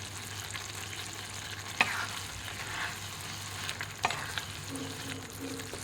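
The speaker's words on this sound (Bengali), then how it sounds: "ম্যাগিতে দিয়ে এইভাবে করে আলতো হাতে এটাকে এভাবে মিশিয়ে নিতে হবে।" Maggi noodles being gently stirred in a pan for cheese masala Maggi, a quiet, steady sizzle with faint scraping and a couple of light utensil knocks, no talking.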